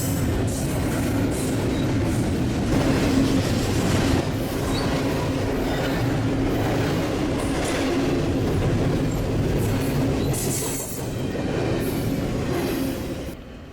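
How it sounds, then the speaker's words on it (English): A BNSF intermodal freight train rolls steadily past Fullerton station, a loud, continuous rumble of wheels and cars with faint squeals and clatter sustained throughout. "This is one of the intermodal trains that we'll catch today."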